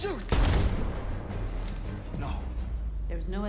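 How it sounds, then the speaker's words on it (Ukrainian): A burst of loud gunfire in the video game Detroit: Become Human erupts early, followed by lower rumbling game sounds and a voice speaking briefly near the end. "Стріляй, Маркус, не вбивай"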